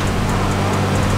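A Mitsubishi 6G75 V6 turbo engine runs hard on a dyno, a loud, steady, dense roar with deep engine drone and a whooshing turbo hiss, close and continuous.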